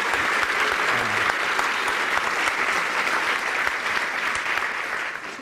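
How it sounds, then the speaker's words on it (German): Long, enthusiastic applause from a German political cabaret studio audience, a dense rippling clatter with sharper individual claps standing out, holding steady before slowly tapering near the end. "Ich habe nicht erwartet, dass so viel geklatscht wird."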